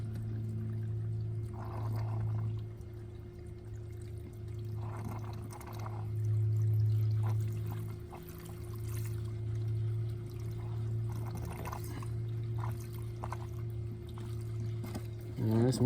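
Water flushing through the heater core of a 2008 Dodge Nitro gives a steady pouring and gurgling flow with a low hum beneath, swelling and easing, close by, with a person talking now and then.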